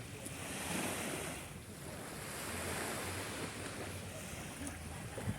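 Ocean waves wash steadily onto a beach at a surfing area in Elyu, a continuous broad roar with gentle swells in loudness, mixed with wind buffeting the microphone.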